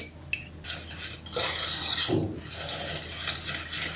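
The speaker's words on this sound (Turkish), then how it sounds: "Güzelce karıştıracağım." After a brief quiet moment, a spoon stirs a cake mixture with added butter in a pot, giving close, steady metallic scraping and rubbing that carries on to the end.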